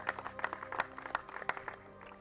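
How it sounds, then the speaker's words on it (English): Golf spectators at a championship course clapping after a tee shot, a faint, distant scatter of applause with irregular claps over a low background hum. "oh, applause"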